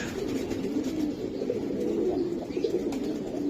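Pigeons coo in soft, low, throaty bursts close by, repeating over a light rustling background with no talking.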